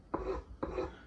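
A blade scrapes green chlorophyll off yucca leaf fibers in two short, soft rasping strokes about half a second apart, close and quiet.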